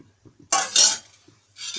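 Instant coffee, sugar and a little boiling water are whipped in a cup with a utensil: two short, close bursts of brisk scraping and clinking, separated by a quiet pause, with no voices.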